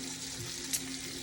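Tomatoes in a pan with bacon and sweet onion give a faint, steady sizzle with a soft hiss, quiet and close, no voices.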